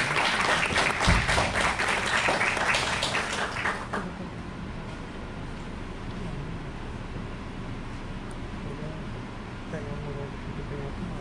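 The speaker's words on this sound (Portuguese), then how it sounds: "Uma salva de palmas para o Washington" Applause for a federal deputy candidate at a political event, a burst of clapping for about four seconds that stops abruptly, followed by quieter room noise and faint voices.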